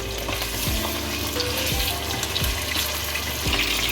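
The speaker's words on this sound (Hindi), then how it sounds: "जब घी गर्म हो तो इसमें 500 ग्राम्स चिकन वो ऐड कर दें। और चिकन को इसमें फ्राई कर लें।" Chicken fries in hot ghee in a karahi, a loud, dense, continuous sizzle with a few sharp spatula scrapes against the pan, nearby and without voices.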